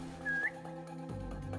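A short rising whistle from the player character in Assassin's Creed Mirage, brief and clear over steady game music and ambience.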